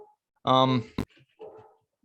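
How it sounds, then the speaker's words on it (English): A dog going wild upstairs, giving a loud sharp bark and a short yip followed by softer whining yelps, heard in a quiet room during a baseball podcast. "I apologize if you can hear my dog. She's going nuts upstairs."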